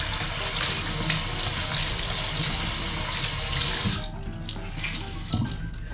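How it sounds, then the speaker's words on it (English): A kitchen tap runs water onto baking paper in a sink, a loud, close, steady splashing rush that drops in level partway through and continues more thinly with a few louder splashes. "Running water in the baking paper like this."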